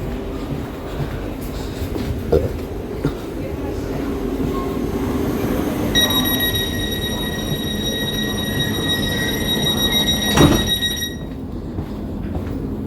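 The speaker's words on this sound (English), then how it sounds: "This is Thameslink's broken train." A broken Thameslink passenger train rumbles steadily along the rails, with a high metallic whine joining partway through and a brief squeal of wheels near the end.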